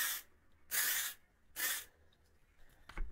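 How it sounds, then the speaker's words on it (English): Living Proof dry shampoo sprayed from an aerosol can onto hair in three sharp bursts, each about half a second long, with quiet pauses between them and a small click at the end. "Spray 6 inches to 10 inches away from your hair"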